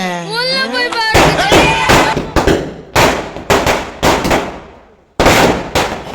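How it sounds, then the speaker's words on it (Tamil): Diwali firecrackers burst in a rapid string of loud, sharp bangs close by, each crack followed by a brief fading rumble, with a short pause before a final volley; a whistling rocket-like rising tone precedes the bangs. "அப்படியே பட்டாசு வைக்க கீழே போயாச்சு."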